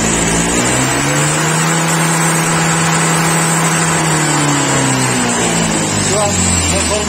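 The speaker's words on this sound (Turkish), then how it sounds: "Şimdi motor çalışıyor." A Honda PCX scooter engine runs steadily at idle, a continuous low rumble with a slight rise and fall in pitch, close by.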